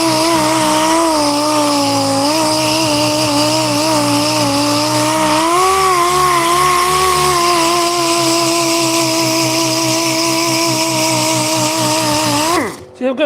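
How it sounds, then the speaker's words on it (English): An air sander works over a wooden table top with open-grained sapwood, giving a loud, steady, close mechanical whine that wavers slightly in pitch before cutting off abruptly at the end. "I'm going over here with this air sander."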